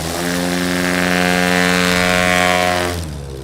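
Propeller engine of a STOL aircraft at a national STOL championship in Sulphur Springs, Texas, droning loud and steady under throttle with a harmonic buzz for about three seconds, then easing off as power drops.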